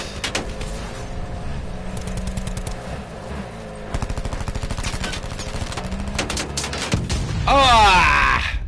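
Gunfire in Call of Duty Blackout, rapid automatic bursts rattling steadily in dense clusters close by, with voices underneath and a louder swell near the end.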